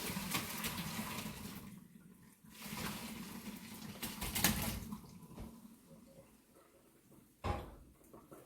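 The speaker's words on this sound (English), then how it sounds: "We're going to drain the potatoes right into the sink." Boiled potatoes poured out into a kitchen sink, a rushing, splashing pour of hot water that swells, eases off and trails into drips, with a sharp clunk of the pot near the end.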